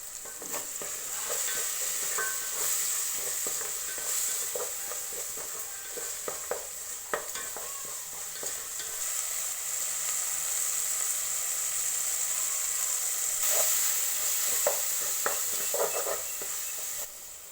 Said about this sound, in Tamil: அதில் கொஞ்சம் மஞ்சத்தூள் ஒரு டீஸ்பூன் சேர்த்து நல்லா வதக்கிக்கணும்